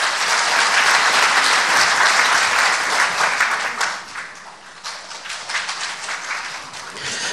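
An audience at a Daejeon public forum on constitutional revision applauds to welcome the mayor of Daejeon, a loud continuous clapping that dips briefly midway and then picks back up.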